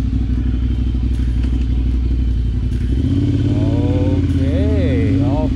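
A project-build motorcycle rides out on the road, its engine note droning steadily close by, then dropping into a deeper, louder rumble partway through as the bike picks up, with rising and falling whines over the engine.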